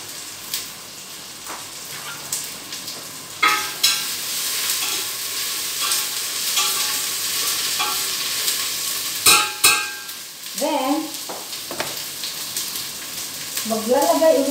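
Prawns sautéing with sliced onions in a pan for a prawn curry, giving a steady close sizzle with stir scrapes and clinks, a few sharper bumps partway through, and brief faint tonal sounds near the end.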